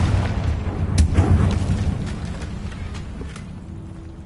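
Confringo blasting spell explosion in the video game Hogwarts Legacy, a loud sustained low rumble with crackling sparks that slowly fades over a few seconds.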